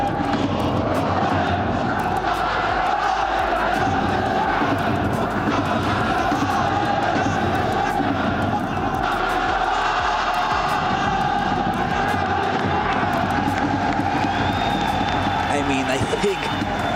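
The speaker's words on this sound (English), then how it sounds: "Abu Maka singing with the whole crowd" A large crowd at an esports football championship group stage sings together and cheers, a dense, continuous roar of massed voices filling the space with no break.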